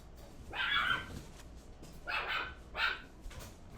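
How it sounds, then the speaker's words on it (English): A small Maltipoo puppy barks three times in high-pitched, yappy bursts, somewhat distant and fairly faint in a quiet room. "That's my little Malchi Poo barking over there."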